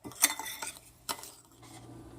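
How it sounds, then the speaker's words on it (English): A spoon scrapes and clinks around a bowl while white sugar and cinnamon are stirred together, with a couple of sharper taps against the side, close and clear, no talking. "You're going to mix this together."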